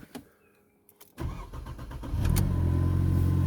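A Mercedes C-Class C250 CGI W204 coupé with a stock four-cylinder engine cranks and starts after a quiet moment, then settles into a steady, loud, close idle.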